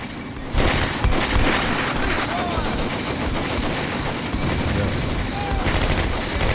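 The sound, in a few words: gunfire in video game Combat Mission: Beyond Overlord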